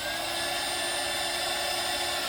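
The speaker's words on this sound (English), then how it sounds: "I'm just going to hit this with my heat gun again" Small heat gun blowing on resin in a continuous, steady airy roar with a constant whine, loud and close, with no pauses.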